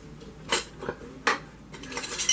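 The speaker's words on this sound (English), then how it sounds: "My jars and my rings." Glass canning jars and metal rings set down on a towel-covered kitchen counter before home canning chili, giving a few sharp clinks and clatters spaced apart, close and fairly loud against a quiet room.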